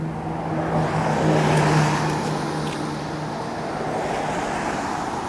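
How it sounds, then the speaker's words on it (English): Early morning road traffic on a pre-dawn street in Dartmouth, with vehicles and buses passing by as a steady broadband rumble that swells slightly and stays continuous throughout, moderately loud with no talk. "I won't say it's super quiet because there's traffic, people going to work. The buses going by."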